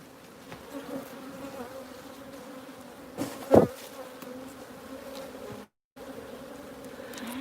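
Honeybees buzz steadily around an open hive, a close, continuous insect drone with a brief louder handling knock partway through and a momentary dropout near the end.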